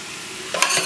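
Vegetables for Boston clam chowder sweating in a pot give a brief soft sizzle, then a louder scrape and stir near the end, all within a second.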